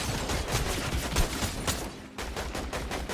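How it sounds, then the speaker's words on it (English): Video game gunfire in Fortnite, rapid overlapping bursts of shots in quick succession, loud and close, with a brief gap before the firing resumes; no talk over it. "Here's more gunfire."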